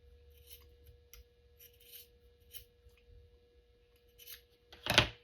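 Scissors cut lace or twine during a paper-crafting session, with a series of faint, scattered snips and rustles in a quiet room, ending in one loud, sharp close-up cut.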